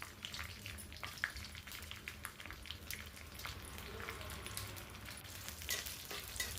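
Mustard seeds, cumin, peanuts, curry leaves and dried red chillies frying in hot oil for Andhra tamarind rice, a steady close crackling sizzle with scattered sharp pops throughout.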